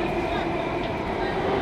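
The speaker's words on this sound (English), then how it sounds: "Train broke down." A metro train rumbles steadily through a station, a continuous loud roar of rolling carriages on the line, with no talk over it.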